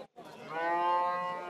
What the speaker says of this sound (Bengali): এখানে অনেক গরু, সুন্দর সুন্দর গরু আছে।